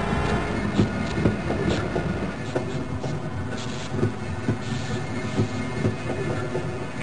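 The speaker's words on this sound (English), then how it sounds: "Press your use key to engage the train." Train rolling along rails in the video game Half-Life, a steady rumbling ride with regular clickety-clack beats, heard alone at a constant level.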